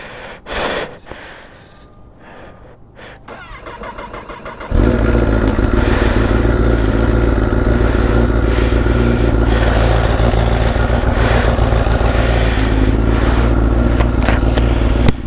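A motorcycle engine idles and warms up on a winter morning before a Sunday group ride, starting with clattering handling noises, then settling into a loud, steady, close running rumble for the rest of the time.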